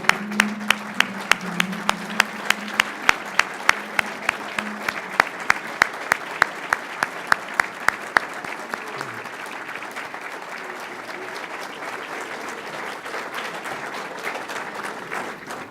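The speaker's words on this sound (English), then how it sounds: "Now that's the secret on ending with a standing applause." A standing audience applauds a speech by Chicago's city treasurer: sustained, even clapping with a few sharp individual claps standing out early, fading slightly toward the end.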